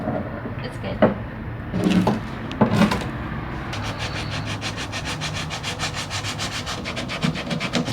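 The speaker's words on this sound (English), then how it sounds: "I just need to sand this edge." An edge of a Nissan S13 car body is sanded by hand, first with a few scattered scuffs and knocks, then settling into a fast, even run of close rubbing strokes. A voice is faintly present in the background.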